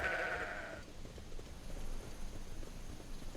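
A sheep in the Sudeki video game lets out a single loud, nasal bleat at the start, followed by quiet ambient game background.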